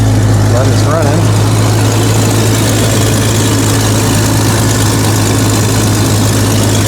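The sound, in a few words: Jeep XJ engine running at idle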